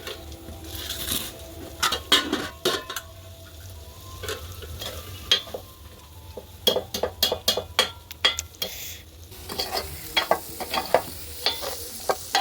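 Spices and chilli powder fry in a pan over a wood-fired stove, a soft constant sizzle broken by frequent scraping stir strokes and the clink of a utensil against the pan.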